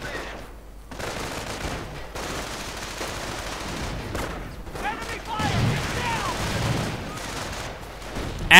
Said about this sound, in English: artillery getting called in on the barbed wire blockade and the infantry accompanying it